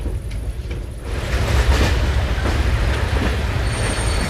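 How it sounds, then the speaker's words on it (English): A steam-era train draws nearer in an Age of Empires 3 cutscene, its low rumble and clattering wheels swelling from a quieter start into a steady, loud roll, with no voices. "but the train's coming."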